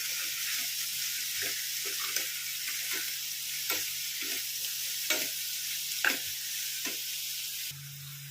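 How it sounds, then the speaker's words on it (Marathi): Shark keema sautés on low heat, a steady soft sizzle running under repeated scraping stirs of a spoon in the pan at a slow, regular rhythm. "आणि आपण हे आता मिक्स करूया परतून घेऊया छान"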